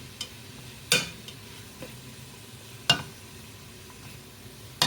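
Onions fry softly in a pan for shrimp chilli, a quiet, steady sizzle broken by several sharp scraping clinks of a utensil stirring, close and without talk.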